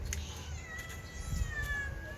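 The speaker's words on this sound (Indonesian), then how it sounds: "Terkadang dia mengeong, dan ngeong, tidak putus asanya" A pregnant striped stray cat meows in front of a house, with thin, drawn-out cries over a constant background hum.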